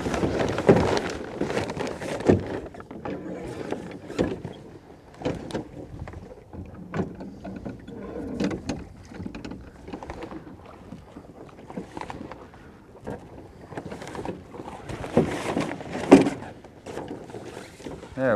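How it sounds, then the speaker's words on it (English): Oars working a small sailboat being rowed in to a dock after the sail is dropped, with soft irregular strokes and water sloshes under steady wind noise. "you're ready to set up your oars and row in"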